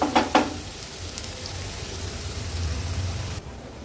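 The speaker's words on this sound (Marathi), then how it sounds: "कांदा थोडासा शिजवून घेऊया।" Onion cooking in a pan, a steady close sizzle of frying that holds through the clip, opened by a couple of sharp scrapes of a spatula.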